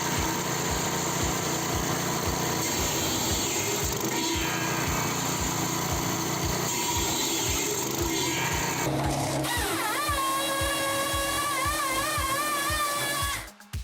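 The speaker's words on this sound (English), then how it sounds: "firewood processor can easily move the wood with its adjustable sawing speed and quick movement." A firewood processor's engine runs steadily while it saws logs, with a rhythmic mechanical chugging and a high whine that wavers in pitch as it works, continuous and close.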